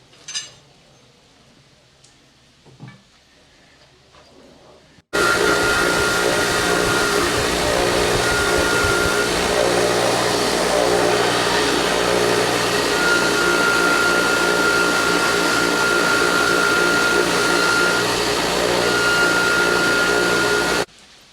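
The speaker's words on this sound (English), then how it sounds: "clean this up on the wire wheel" Wire wheel spins up after a few faint clunks and then roars loud and steady, scrubbing rust from a 2018 Silverado exhaust part for a Flowmaster Outlaw install, with a continuous harsh whir to the end.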